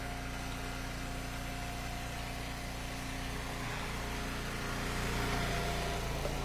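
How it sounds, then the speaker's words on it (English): A tractor engine runs at a steady idle, a constant low droning hum with faint tonal whine, heard alone without speech at moderate distance. "Give a thumbs up for that tractor."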